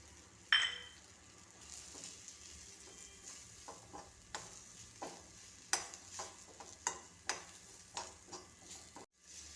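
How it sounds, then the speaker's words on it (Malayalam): Dates sautéing in a masala paste over a low flame, with a soft steady sizzle beneath repeated light scrapes and taps of a spoon against the pan, close by and fairly quiet. "അപ്പോഴത്തേക്ക് നമ്മൾ ഈ ഈന്തപ്പഴം ഇതിലേക്കിട്ട് വഴറ്റാം."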